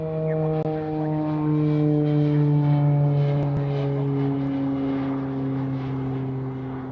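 A medevac propeller aircraft takes off at Honolulu airport, a loud steady droning engine hum with strong tonal harmonics that holds throughout and slowly shifts in pitch as it climbs away.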